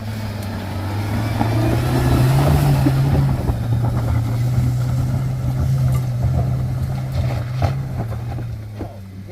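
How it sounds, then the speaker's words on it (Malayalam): Off-road vehicle with auto diff lock climbing a rough track, its engine droning loud and steady with a slight rise in pitch midway, plus wind buffeting and rattles, close throughout. "വണ്ടി കൂളായിട്ട് കയറി വരുന്നുണ്ട് കേട്ടോ"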